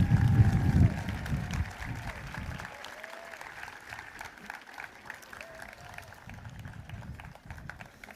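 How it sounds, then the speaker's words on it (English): Graduates at a high school graduation ceremony applaud their families, loud crowd clapping at first that fades within a couple of seconds into softer scattered claps and room murmur. "Graduates, please stand and give your families a round of applause for helping you get here today"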